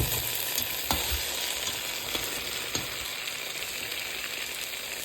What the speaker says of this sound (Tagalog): This is how I cook my noodles with mushroom, with spring onion, with eggs.